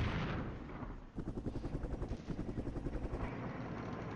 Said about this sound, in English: Now we're getting some more of those artillery calls in.